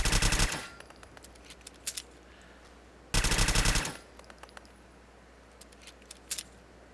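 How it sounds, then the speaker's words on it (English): Soul Deliverer automatic pistol from Fallout 4 firing at a wall: two loud bursts of rapid automatic shots, each roughly half a second long and separated by a few seconds, with faint mechanical clicks and handling sounds in between. "let's put the Soul Deliverer up, and we're going to do some target practice on this wall"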